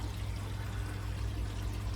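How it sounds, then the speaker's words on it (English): Water pumped from a 60 litre bin up to a cherry shrimp aquarium header tank, pouring and splashing in a steady, even stream with a low rumbling undertone throughout, no voices. "that water pumps up to the header tank up above this roof here"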